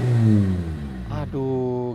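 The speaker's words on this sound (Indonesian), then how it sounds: "Tapi kalau belum kena cut off-nya seperti ini suaranya." Honda Integra Type R engine revving hard before its launch control cut-off, a steady loud high-rpm drone that dips, surges, then holds again, with a brief harsh burst in the middle.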